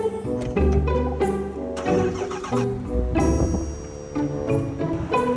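A truck engine cranks and catches, then revs unevenly with clattering bursts as the vehicle is backed up and draws nearer, loud and close, with knocking and rattling between the revs.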